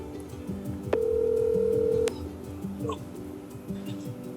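A telephone call placed from an Airbnb produces a single steady tone for about a second, while fainter repeating tones and light ticks continue underneath before and after it.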